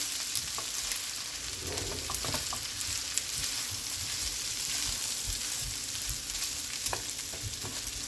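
Overnight rice fries on a stovetop for Jamaican-style shrimp and chicken fried rice, giving a steady, close sizzle with scattered light clicks of stirring and no talking.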